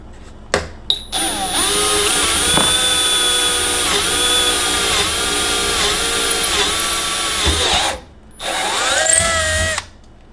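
A power drill whines steadily into a cabinet while a hole is bored for a drawer pull, loud and close, with its pitch dipping under load several times before a brief stop and a short second burst.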